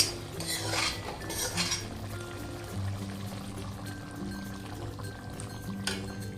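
Water poured into a pan of gravy made with prawns, fried potato and poppy seeds, a steady pour with clinks of a metal utensil and pan, alongside a continuous background hum.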